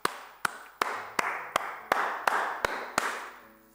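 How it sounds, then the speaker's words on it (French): A church congregation claps in unison, about nine sharp, evenly spaced claps in a steady rhythm with a light reverberant tail and no talking. "Est-ce que tu peux applaudir le Seigneur?"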